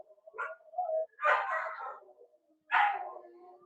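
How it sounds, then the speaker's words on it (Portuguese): Dogs at a neighbouring property bark in short bursts, a few yips followed by two louder barking spells, heard from a moderate distance with no talking. "A cachorrada chegou aqui"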